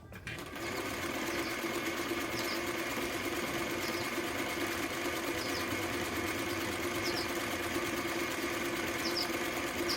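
A Singer 319w sewing machine stitching a zigzag, running at a steady, fast mechanical whir with a rapid needle clatter, close and unbroken after a brief start.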